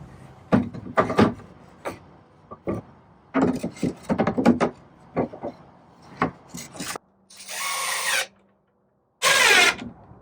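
Wood blocks and 2x4 boards knock and scrape together while a potting bench is assembled, followed by two short bursts of a power drill driving screws, loud and close.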